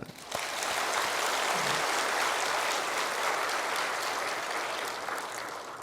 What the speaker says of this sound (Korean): 우리 크게 박수 한번 해요